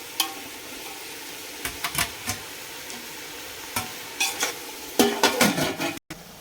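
Food fries in a pan while a spoon stirs it to keep it from burning, a low sizzle broken by scattered scraping clinks that grow busier and louder near the end.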